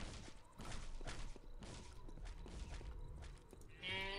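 Cow mooing in the Postal 2 video game, a loud, drawn-out bovine low over busy game noise, with a second shorter call near the end.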